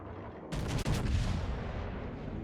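A heavy naval salvo erupts in the World of Warships game, a loud booming blast that cuts off sharply and is followed by a second crash of shell hits, then a long rumbling decay.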